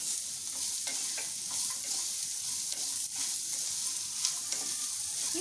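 Sabudana tomato khichdi is mixed in a pan, producing a soft, even hiss with scattered light scrapes and taps of a spoon against the metal, close and fairly quiet.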